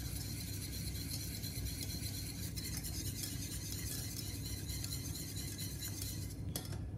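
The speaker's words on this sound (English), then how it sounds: "Take a whisk and start to whisk, and that'll break down the roux better" A whisk working a roux for cheese sauce in a pan, a steady faint scraping and clinking stir under a soft sizzle, continuous and close, with no talk.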